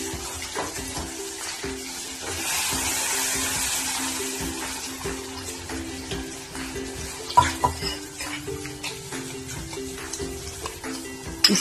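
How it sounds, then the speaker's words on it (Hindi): Kathiyawadi garlic chutney paste with mustard seeds, cumin and asafoetida sizzles in oil while a spoon scrapes and stirs it in a pan, giving a steady fry hiss with irregular stirring clatter and a few sharper knocks. "ऑयल में रोस्ट कर लेते हैं हमारी चटनी को।"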